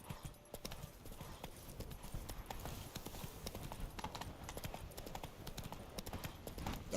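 Roach, Geralt's horse in The Witcher 3: Blood and Wine, trots with a steady, rhythmic clip-clop of hooves at moderate volume throughout, with no speech over it.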